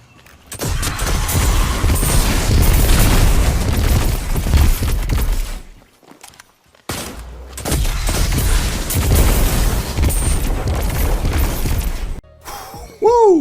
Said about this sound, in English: did you see those explosions